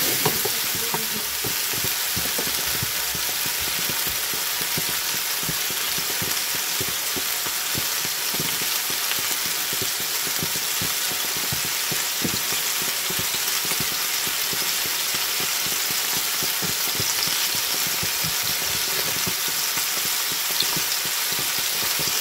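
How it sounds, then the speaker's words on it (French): Coconut curry meatballs sizzle in a frying pan as they turn golden, a continuous loud even hiss with dense crackling that holds steady throughout, with no voices over it. "Donc là, vous les faites dorer de tous les côtés"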